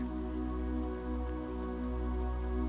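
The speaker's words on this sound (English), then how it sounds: "This is the best rainy day ever, Jackson thinks." Rain falls steadily on a surface in a children's story, an even patter under a low hum, with no voice.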